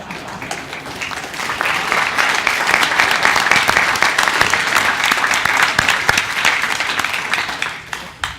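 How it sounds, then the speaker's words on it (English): Audience applause for a business panel on the TPP fills the room, a loud, dense and steady clapping that lasts about eight seconds before tapering off at the end. "I think that was also a clap for the panel"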